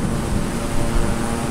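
Airplane in flight in Microsoft Flight Simulator, a loud steady engine and wind drone filling the brief moment, with no talk.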